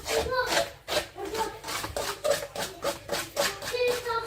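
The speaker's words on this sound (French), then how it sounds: "Désolée du bruit, je mélange." Oil and eggs are whisked in a bowl, giving fast rhythmic scraping and clinking strokes that are close and fairly loud and keep a steady pace throughout.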